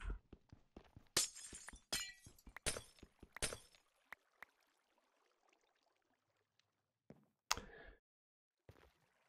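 Glass blocks shatter one after another in Minecraft, a rapid string of crisp breaking crashes followed by sparse ticks and a couple of final isolated shattering bursts, close and clear with no talk.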